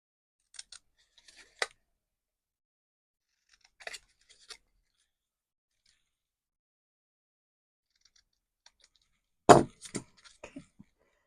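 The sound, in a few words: scissors cutting a paper card tag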